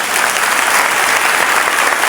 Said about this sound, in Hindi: तो जोरदार ताली मारिए ना